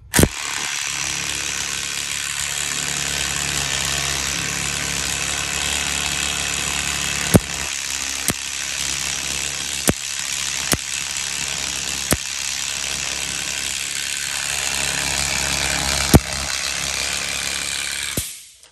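A Mac Tools 1/4 inch impact wrench runs a torque test, a loud continuous mechanical whirring that holds for about eighteen seconds, broken by several sharp metallic clicks before it stops abruptly.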